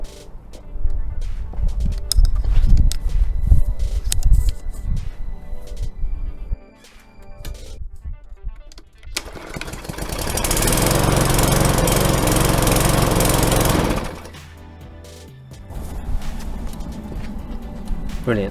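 A petrol lawn mower fitted with a new spark plug starts on the first pull and runs loud and steady for several seconds, then drops back to idle, with rattling handling noises and someone talking before and after.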